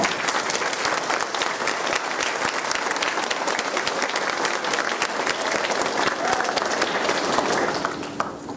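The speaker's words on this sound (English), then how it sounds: "Let's give all these young people a round of applause." Audience applause fills an awards night for a school band program, steady dense clapping from a sizable crowd throughout, loud and sustained before tapering slightly at the very end.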